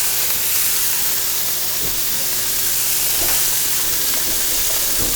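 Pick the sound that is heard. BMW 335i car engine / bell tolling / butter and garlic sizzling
butter and garlic sizzling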